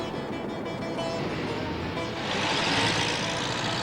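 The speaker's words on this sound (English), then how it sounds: "Cairo traffic" Busy Cairo street traffic rumbles close and steady, a dense broadband wash of engines and tyres that swells louder partway through, with no voices standing out.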